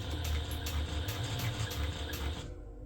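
A sewing machine stitching a dog leash, its needle mechanism running in a fast steady rattle with a faint rhythmic clack, close and continuous before stopping abruptly near the end.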